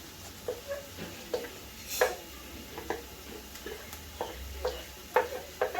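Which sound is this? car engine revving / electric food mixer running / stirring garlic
stirring garlic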